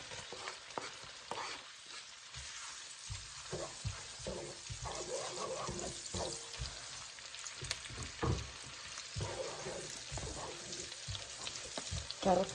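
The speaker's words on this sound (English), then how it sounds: "saute until the onion is a little bit soft" Onion and garlic stir-frying in a hot wok, a steady loud sizzle broken by repeated scrapes and tosses of a spatula, close up with no talk.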